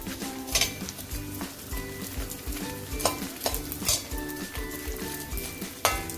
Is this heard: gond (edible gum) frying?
yes